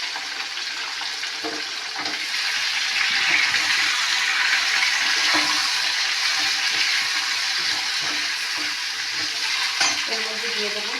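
Onions fry in oil in a pan for a bean and fish curry. A loud, dense sizzle swells after the first couple of seconds, with a few soft stirring knocks and taps underneath.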